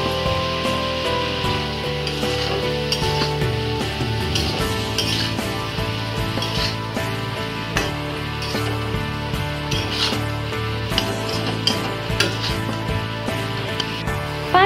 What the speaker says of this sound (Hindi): इनको लो टू मीडियम फ्लेम पर 5 से 6 मिनट तक ऐसे ही भुनेंगे।